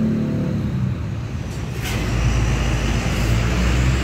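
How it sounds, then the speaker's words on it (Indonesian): A newest-model Hino RN bus engine rumbles deeply at close range, swelling louder partway through as it idles and revs. "suara dari Hino RN terbaru, belum RM"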